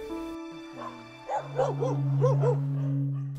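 Dogs at a rescue shelter in Cavite or Pangasinan give a short run of yips and whimpering barks, close by, over a steady background hum.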